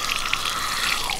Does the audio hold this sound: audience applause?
no